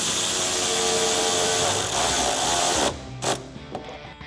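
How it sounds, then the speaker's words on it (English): A socket wrench tightens a 10mm bolt on the wheel well of a Jeep Wrangler JL, giving a close, rapid ratcheting whir that runs steadily for about three seconds. It ends with a few separate clicks and knocks. "Grab your socket and tighten it down."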